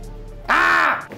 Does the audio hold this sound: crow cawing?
yes